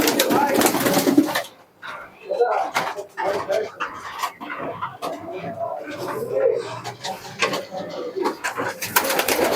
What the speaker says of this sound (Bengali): এই হচ্ছে মাদিন কবুতরটা